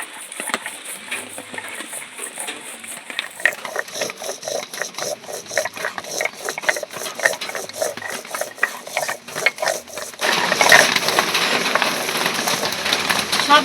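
A stone shil-pata grinding slab is roughened by hand. Rapid, rhythmic scraping and grinding strokes repeat throughout and turn louder and harsher over the last few seconds.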